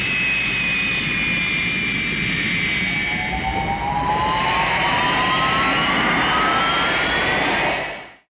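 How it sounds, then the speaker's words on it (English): A Star Wars starship takes off as a film sound effect: a loud, steady jet-like roar with rising whines that climb in pitch as it builds, holding strong before cutting off sharply at the end. "Starship takes off."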